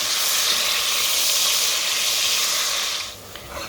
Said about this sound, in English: pour some oil and then add the meat, and with a potato masher just mix, mash, and stir while it's cooking on high heat